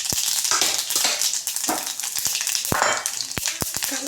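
Mustard seeds crackle and pop in hot oil left from frying pirandai, a dense sizzle broken by sharp irregular bursts and snaps, close and lively.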